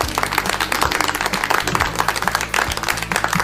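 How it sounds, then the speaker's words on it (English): A round of applause on an educational school radio broadcast, uneven clapping with distinct sharp claps over a low tonal music bed, no talking. "A round of applause."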